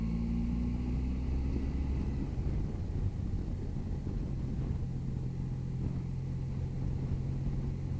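A Harley-Davidson Pan America motorcycle engine climbs a tight, steep hill in second gear. The rumble is loud and steady throughout, and the pitch drops early in the clip as the bike labours under load.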